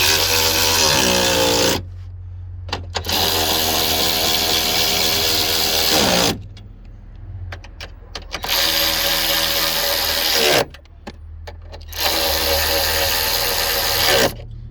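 Power tool running a 10 millimeter socket on battery bolts in a 2016 Chevrolet Malibu, loud close whirring in three long bursts with short pauses and light clicks between.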